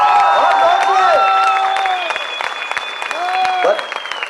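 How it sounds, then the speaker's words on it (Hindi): A studio audience at the Sa Re Ga Ma Pa television show applauds for Shahrukh Khan, a loud, sustained wash of clapping with cheers, while a voice talks over the crowd. "जरा ताली हो जाए शाहरुख भाई के"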